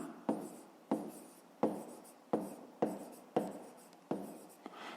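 A pen scratches across paper while working a fifth-grade math exercise, seven distinct, close stroke bursts in a fairly regular rhythm, each starting sharply and trailing off.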